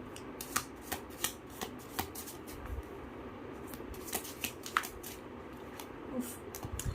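Tarot cards being shuffled by hand, a run of soft papery riffles and taps at an uneven rhythm, close up, with no talking.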